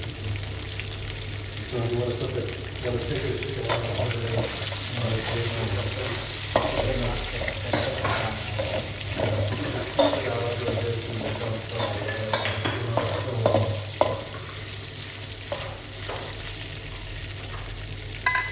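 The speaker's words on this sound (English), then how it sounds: "Fry it until the chicken gets well browned and a little crispy." Chicken stir-frying in hot oil in a wok for Thai fried rice (khao pad gai), with steady loud sizzling, scraping stirs and clanks of the utensil throughout, a faucet or running water audible at times.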